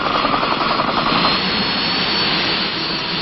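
A UH-1D Huey helicopter with a sling-lifted lightweight howitzer in 1966 airmobile division footage: a loud, steady turbine roar with a faint rhythmic rotor throb, heard alone on a muffled, narrow-band soundtrack.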